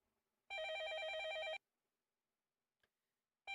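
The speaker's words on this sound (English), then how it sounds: "I doubt it's an important phone call, but I shouldn't ignore it." Telephone in the visual novel game Fate/Stay Night ringing with a bright electronic trill: one loud ring burst of about a second, a pause, then the next ring starting, with no talk.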